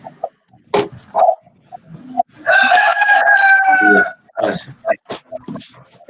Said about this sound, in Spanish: Un gallo que está malo con resfriado.